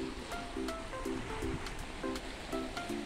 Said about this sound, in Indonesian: Suara ombaknya.